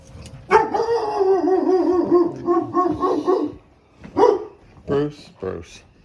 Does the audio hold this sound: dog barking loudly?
yes